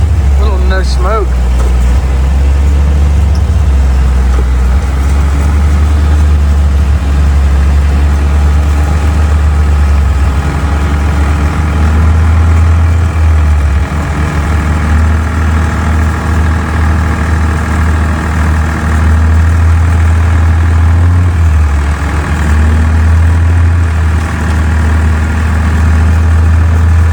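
A restored Ford 3000 tractor engine idling steadily and loudly nearby, a deep continuous rumble that holds even throughout, with people talking over it now and then.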